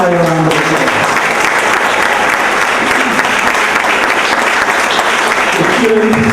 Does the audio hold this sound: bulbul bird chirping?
no